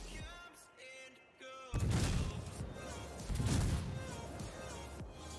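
Naval guns firing in World of Warships, a sudden heavy broadside boom followed by a second rumbling salvo, close and loud, with talk heard before the shots.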